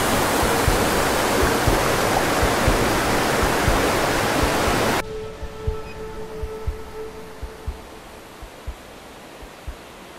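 A high waterfall roars loudly and steadily at close range on a dangerous trek, then abruptly drops to a quieter, more distant rush with faint tones and scattered low thumps.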